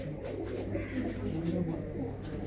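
Pigeons coo softly in a Punjabi village loft among prized breeds, a low murmuring that runs steadily through the whole stretch with no pauses.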